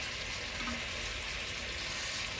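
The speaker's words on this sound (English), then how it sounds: "ribs, you always want to put the meat side down. You want to brown the meat side first." Beef short ribs searing meat side down in a hot pan, a steady, quiet sizzle of frying that holds evenly throughout.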